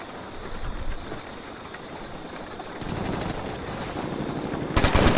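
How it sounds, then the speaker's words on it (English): Rifle fire from an AK200 in the video game Ghost Recon Future Soldier: bursts of rapid gunshots against a steady background hum, with a louder, sharper volley right at the end. No voices. "how good the L1 fire is on this rifle"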